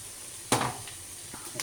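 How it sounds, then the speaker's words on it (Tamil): Chopped tomatoes dropped into a hot pan while cooking bitter gourd, giving a sudden loud sizzle that fades into a soft steady frying hiss, with a light clink of a utensil near the end. "அடுத்து நம்ம போட போகிறீங்க தக்காளி கட் பண்ணி போடணும்"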